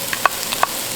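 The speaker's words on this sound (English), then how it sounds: "I'm going to add in our beautiful pre-cooked sausage." Pre-cooked sausage stirred around a hot pan, with a couple of short scraping clicks from the utensil over a soft, steady sizzle.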